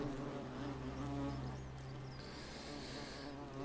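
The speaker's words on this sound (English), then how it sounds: "Also, there are wasps." Wasps buzzing in The Forgotten City, a faint, steady droning hum that wavers softly in pitch throughout, low in level with no talk.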